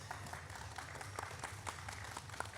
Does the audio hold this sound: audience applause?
yes